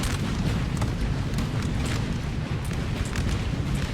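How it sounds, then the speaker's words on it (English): Artillery fire in Napoleon Total War rumbles as a dense, continuous barrage of deep booms and distant cannon blasts, loud and sustained throughout with no gaps. "This artillery is hammering the Russians."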